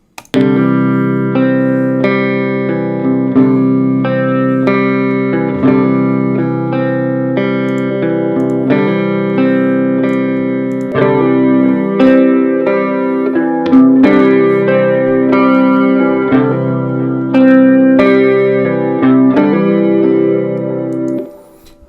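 A sustained guitar playing chords and melodic lines through room and plate reverb, with no delay or chorus, washed in lush reverb that blurs the notes together, continuous for about twenty seconds with no voices.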